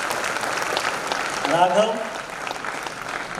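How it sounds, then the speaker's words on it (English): Convocation guests clap for graduating MTech and PhD students, a soft, steady patter of many hands heard under a voice announcing a name. "I request all to please appreciate their achievements by clapping."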